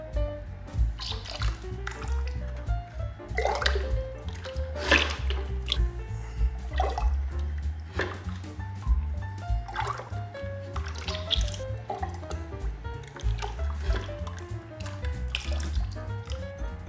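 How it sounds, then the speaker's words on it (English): Homemade clay pots dunked and swished in a bucket of liquid glaze; continuous sloshing, dripping and trickling close up, with slurpy squishes throughout and a low background rumble. "So let's dunk these bad boys in the glaze."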